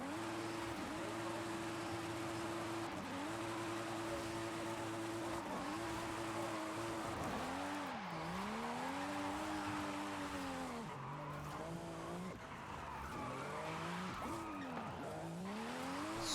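A stock BMW Z4 drifting in Forza Horizon 5 gives a loud, continuous engine drone that rises and falls with throttle and gear changes, with tire squeal blending in through the slides.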